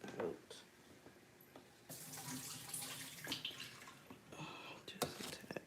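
Liquid pours in short bursts, a splashy trickle close by that starts and stops several times.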